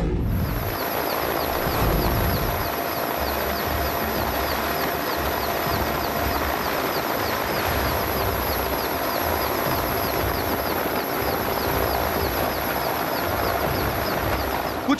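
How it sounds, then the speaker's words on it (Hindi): An army helicopter passes over flooded houses, its rotor and engine giving a steady loud drone with rhythmic chopping that holds throughout, no voices present. "अब सेना का हेलीकॉप्टर जान बचाने के लिए पहुंचा है।"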